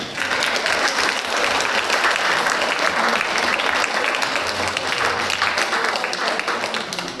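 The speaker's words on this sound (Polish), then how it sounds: "Także brawa jeszcze raz dla mnie." Sustained, loud applause from an audience at a Christmas Eve dinner for seniors, steady and dense throughout with no break.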